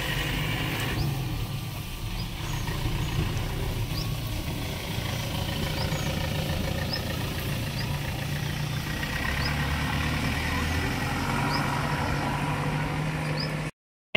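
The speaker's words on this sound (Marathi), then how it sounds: "मुलांची बस आली, मुलं निघालेत आता शाळेत" A school bus engine idling nearby on a wet rural morning, a continuous low rumble with steady drone and faint rain hiss, plus a few faint high chirps above it.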